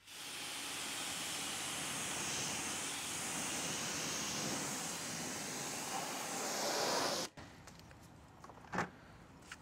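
Water sprays in a strong, continuous hiss as a car gets a thorough pre-wash rinse, loud and close for several seconds before cutting off, followed by a few faint knocks and splashes.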